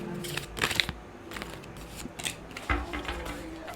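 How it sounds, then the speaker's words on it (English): Tarot cards are shuffled close by in soft, quick riffles and flicks, with irregular papery snaps over a quiet room and no talking. "I'm just shuffling."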